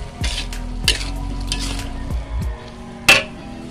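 Spicy chicken cap cay stirred in a frying pan, with soft sizzling under a few sharp utensil scrapes and clinks against the pan, close by and without talk.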